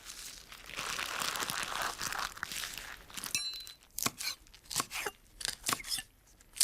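A knife cuts through rolled-up leaves on a board, first with crinkly rustling as the leaves are handled, then a run of close, crisp chopping strokes at an uneven rhythm.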